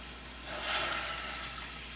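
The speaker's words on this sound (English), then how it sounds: "we're gonna add 2 cups of water to our pan" Two cups of water poured into a cooking pan, a brief splashing pour that swells in the middle and then settles into a soft steady wash.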